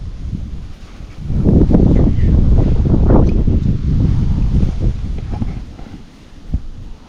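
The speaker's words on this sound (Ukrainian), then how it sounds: "Ще нам вітер мішає, звісно, тут дергає все." Gusty wind buffets and rumbles against the microphone outdoors while fishing, rising and falling in strong blasts with faint rustling.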